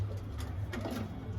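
Pigeons in a fancier's loft coo softly in low, rounded murmurs, a faint continuous cooing with a few brief flutters of other sounds nearby.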